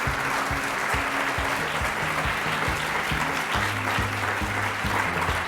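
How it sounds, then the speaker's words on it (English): Sustained applause from a conference audience as graduate speakers are called onstage at a closing session, steady dense clapping throughout with no clear speech. "let's give them another round of applause"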